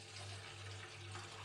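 Water poured into a cooking pot to boil sago, a steady low pouring and filling sound with a mild hum underneath, fairly close and constant throughout, no voices.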